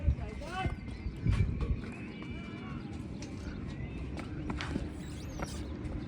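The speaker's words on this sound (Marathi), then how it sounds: "घोड्याची राईड झाली बघा आता आमची" Hooves of a horse clip-clopping on a hillside ride, with a steady walking rhythm under people talking, plus a brief whinny.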